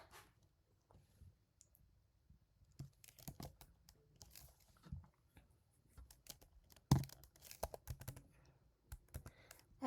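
Fingers type on a computer keyboard while coding in SwiftUI, giving soft, irregular key clicks in quick clusters with a sharper louder tap near the end, close and quiet with no talk.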